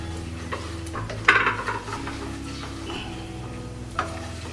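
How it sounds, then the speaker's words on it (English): Bay leaves and whole chilies sizzle in a hot pan in a kitchen, a steady low frying hiss with a louder burst of spatter early on and occasional light clinks of a utensil against the pan. "My bay leaves will first go in and my whole chilies will go in."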